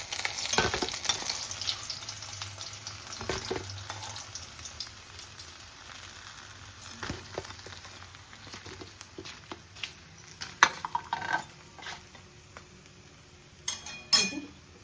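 Evening snacks fry golden in hot oil, a soft continuous sizzle at close range broken by clattering stirs and scoops against the pan, with a few sharper knocks near the end.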